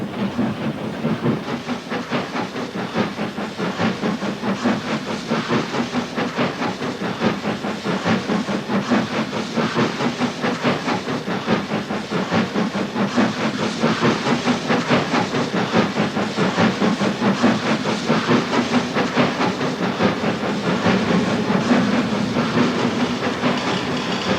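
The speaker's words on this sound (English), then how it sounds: "with the 8 driving wheels of the Consolidation, climbing, always climbing now" A Consolidation steam locomotive with eight driving wheels climbs a steep Ecuador railway grade, its heavy rhythmic chuffing and hiss running steadily throughout, mixed with clattering wheels and rattling carriages.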